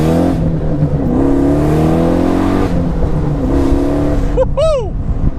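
A 700hp Pontiac Solstice engine revs loudly and close, with rising and falling throttle sweeps and a sharp climbing surge near the end; a voice is faintly present beneath.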